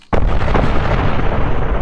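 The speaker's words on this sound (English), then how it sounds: "It's blowed up. Huge explosion." A huge explosion in a Tabletop Simulator tabletop game session bursts in suddenly and loud, then rumbles on as a dense, sustained roar with no speech over it.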